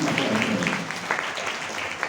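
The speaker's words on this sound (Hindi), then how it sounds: "एक जोरदार तालियों के साथ" An audience breaks into applause, a brief steady rattle of many hands clapping at moderate distance, fairly soft and even throughout.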